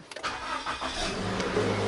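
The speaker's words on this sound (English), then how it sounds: "Start button, pretty cool." A Subaru BRZ engine cranks with a quick whir after the start button is pressed, catching and settling into a steady, close idle.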